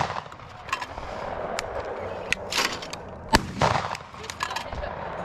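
Shotgun blasts ring out at skeet targets, a handful of sharp, loud bangs spaced irregularly over outdoor background noise.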